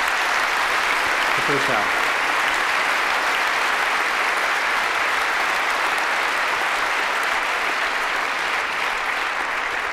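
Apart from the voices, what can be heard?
audience applause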